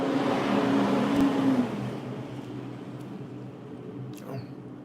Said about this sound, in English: oh, it's a loud truck.